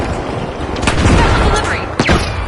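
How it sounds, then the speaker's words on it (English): A frag grenade in a video game bursts in two sharp, booming blasts amid a crackle of gunfire, loud and close. "Sending a frag."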